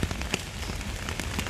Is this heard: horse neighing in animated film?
no